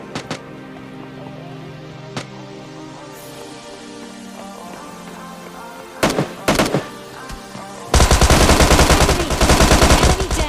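Gunfire in the video game PUBG Lite starts with a few sharp, isolated shots. Short loud bursts follow, then a sustained stretch of rapid automatic fire at close range closes out the sequence.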